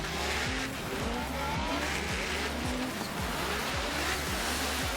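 Formula Drift competition car sliding sideways at the St. Louis round, engine roaring with repeated rising revs and tire squeal, distant and blended with crowd and track ambience.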